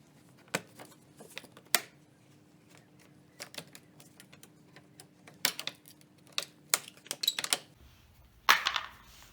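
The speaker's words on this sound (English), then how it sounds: "all you have to do to cut this is just use a sharp utility knife. It's nice and simple. Score it and it should snap pretty easy." A sharp utility knife scoring and snapping material during a Hefty Fabworks Banshee bumper install on a 5th Gen Toyota 4Runner: scattered sharp clicks and ticks in quiet, then a louder snap near the end.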